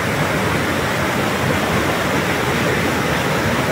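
Water rushing through the Dowleswaram barrage on the Godavari at Rajahmundry, a loud steady broadband roar of floodwater that holds unbroken throughout, with no voices.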